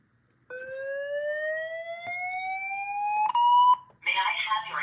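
A fire alarm demo board sounds a loud electronic whoop tone that sweeps steadily upward for about three seconds and then cuts off. A burst of harsher alarm sound follows, with a voice in the background.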